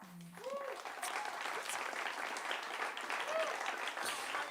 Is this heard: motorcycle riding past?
no